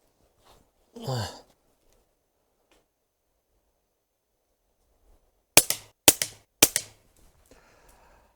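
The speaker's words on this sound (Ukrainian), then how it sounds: "10 пострілів роблю стоячи з двох рук по лівій мішені" Three sharp shots from a GAMO AF-10 break-barrel air pistol fired at a paper target outdoors, quick successive cracks in near silence, preceded by a short soft exhale.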